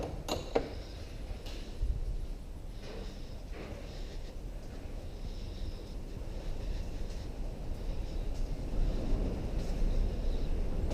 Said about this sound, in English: we have like 25-mile-an-hour winds